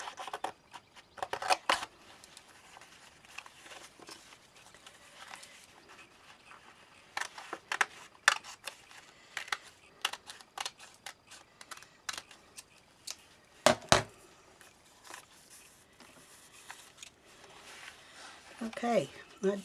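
Scissors snipping through scrappy fabric along a paper pattern, scattered short crisp cuts in bursts with quiet gaps, some near and sharp, others faint.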